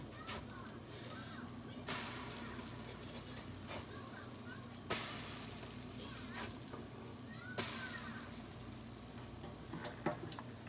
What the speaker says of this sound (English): you just start flipping those pancakes over